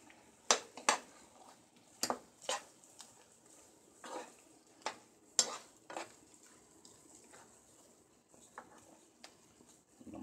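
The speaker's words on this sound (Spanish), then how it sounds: "Vamos a mezclar todo bien." Shrimp stirred in a pan of chipotle cream sauce, a spoon scraping and clacking against the pan in irregular knocks over a soft, steady sizzle, with no one speaking.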